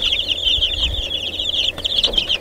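Young chickens in a brooder cheep and cluck continuously and fairly loudly at close range, a dense high chirping over a low background hum.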